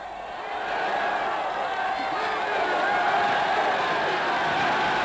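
A huge crowd of 100,000 workers gathered at Tempelhof airfield, a broad, steady roar of massed voices and murmuring that swells slightly toward the end, heard as distant old archival sound.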